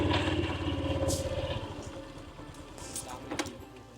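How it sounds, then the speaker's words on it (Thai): A tractor engine chugs low and steady in a quiet rural Lao village, a close rhythmic thrum that fades somewhat midway, with light clatter and a few faint sharp noises around it. "เสียงจักรปั่นรถไถต่ำๆเขาปั่นเขาเสียงรถไถเสียงจักรปั่น"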